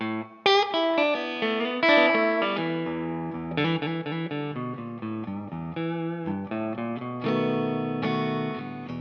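Electric guitar with a distorted, effected tone plays a bluesy shuffle riff alone, ringing chords and single notes over several bars.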